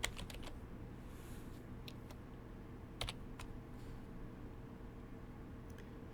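Keystrokes on a computer keyboard, sparse clicks in short bursts with a clustered flurry at the start and a few taps later, faint and close over a quiet steady hum, no talk.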